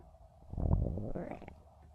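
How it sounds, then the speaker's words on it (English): A hungry stomach growls for about a second, a low, gurgling rumble held up close to a phone that rises and then fades. "You hear my stomach growling. I'm hungry."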